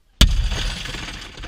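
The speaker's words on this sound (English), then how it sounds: "grab something sharp and heavy and break the glass" Car window glass smashes in one sudden sharp crash, loud and close, followed by a second of crackling, tinkling debris.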